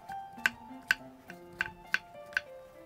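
A knife slices shiitake mushrooms on a cutting board, making five or six evenly spaced crisp taps over a faint steady background hum.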